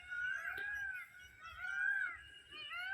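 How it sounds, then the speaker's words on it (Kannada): Peacocks call on a farm, loud, wailing, cat-like cries rising and falling in repeated waves across the whole stretch, with no talking. "ನೋಡಿ ನವಿಲುಗಳು ಕೂಗ್ತಾ ಇದ್ದಾವೆ, ಕೇಳಿಸ್ಕೊಳ್ಳಿ"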